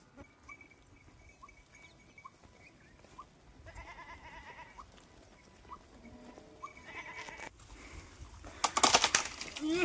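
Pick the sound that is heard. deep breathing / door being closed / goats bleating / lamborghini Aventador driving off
goats bleating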